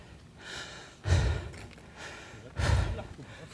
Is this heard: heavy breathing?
yes